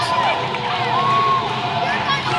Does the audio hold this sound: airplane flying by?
no